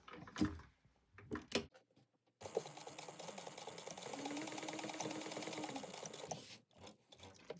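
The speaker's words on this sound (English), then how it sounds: "And I just sew that back and forth a couple times." A sewing machine runs a steady, continuous stitch for several seconds while a laptop bag seam is sewn back and forth, preceded by a few brief handling clicks and bumps.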